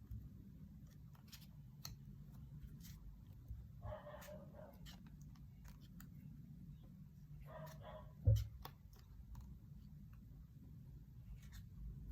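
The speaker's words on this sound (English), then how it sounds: "Sorry about the dog." A dog somewhere in a quiet room gives a few faint, muffled whimpers and short vocal sounds, with light paper rustling and clicks nearby.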